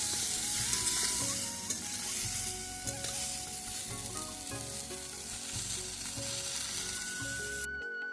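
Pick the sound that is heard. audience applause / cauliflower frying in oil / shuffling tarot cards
cauliflower frying in oil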